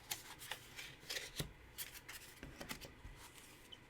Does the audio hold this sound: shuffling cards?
yes